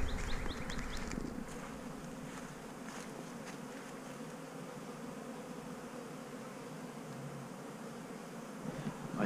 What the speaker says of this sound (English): there's a buzz in the air.